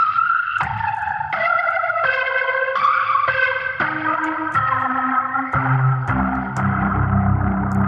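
Piano played on an iPad recreating a song's intro, with a series of ringing, chorus-and-echo-treated notes sounding one after another, loud and alone, sustained tails overlapping into a low swell.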